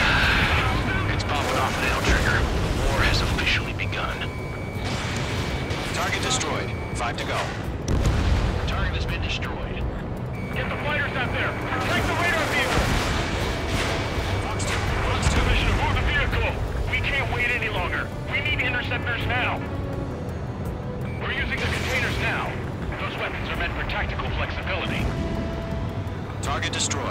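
Anti-aircraft guns and explosions in the combat flight game Ace Combat 7 form a loud, dense, continuous barrage of booms and rattling fire with no let-up across the whole stretch.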